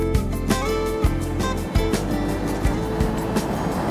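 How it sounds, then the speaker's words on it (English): A 4x4 climbing over a steep sand escarpment at a crossing, its engine a steady low rumble with thumps and bumps from the tyres and body as it lurches across loose, collapsing sand, close and continuous. "the only safe way I can figure to get across here is to drive over this escarpment"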